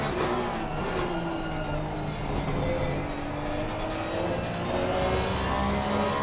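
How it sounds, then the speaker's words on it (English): Porsche Cup race cars lapping Brands Hatch in a racing video game, a steady dense blend of engine drone and tire noise holding throughout at a constant, fairly loud level with no voices. "You can hear his tires working hard there."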